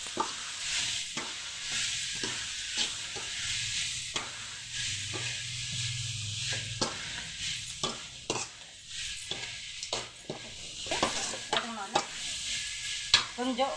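Mint, coriander and curry leaves sauté in a pan for a tomato-mint chutney, a steady sizzle broken by repeated sharp stirring scrapes and clacks of a spoon, close and uneven.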